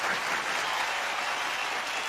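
Loud, dense applause from a large audience at a music award function, a continuous roar of clapping heard on its own without speech.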